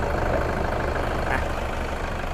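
The 3.0 litre 1KD engine of a 2011 Toyota Vigo Champ 4WD single-cab pickup idles close by with a steady, even low hum for a couple of seconds.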